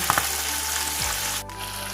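Pork ribs deep-frying in hot oil give off a loud, close, continuous sizzle and crackle, with a couple of brief clinks early on and no speech.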